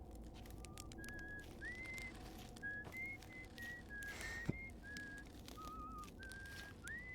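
A character whistles a melodic tune in the Outer Wilds video game, a series of short high whistled notes rising and falling in phrases over a soft ambient background, fairly quiet, with no speech.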